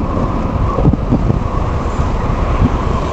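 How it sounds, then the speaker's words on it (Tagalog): Strong wind buffets the microphone of a moving ADV 175 motorcycle with a low, rumbling roar, steady and heavy, with road noise underneath as it rides at speed. "Sarap na hampas ng hangin pagka binibilisan mo."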